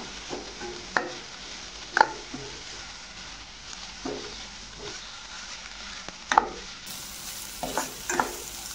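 Tomatoes cooking in fried masala paste for sprouted moong usal, a low steady sizzle broken by sharp scraping stirs roughly every second or two, close and fairly quiet, no voices.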